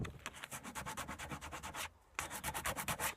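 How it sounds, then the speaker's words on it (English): Hand sanding on a damaged oak tabletop, a steady run of rapid back-and-forth rubbing strokes close up, with one short pause before the scraping rhythm resumes, no voices. "So we need to rub that until it's smooth. Rub all around the damaged area"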